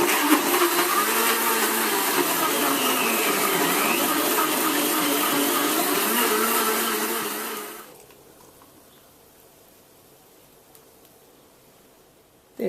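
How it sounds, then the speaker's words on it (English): A blender on high blending a smoothie with ice and chocolate cocoa, a loud steady whirring roar for about eight seconds before it cuts off into near silence. "Now just blend on high for 30 seconds or so,"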